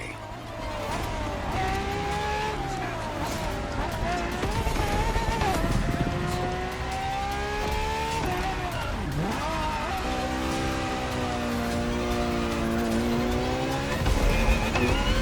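A Ferrari FXXK racing engine in The Crew Motorfest roars loudly and steadily for the whole stretch. Its pitch climbs and drops through gear changes, with tire squeal and a brief dip around the middle.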